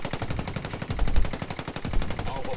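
Gunfire in the tactical shooter Ghost Recon Wildlands during PvP, rapid automatic bursts of rattling shots, loud and close, continuous across the clip with a heavier thump partway through.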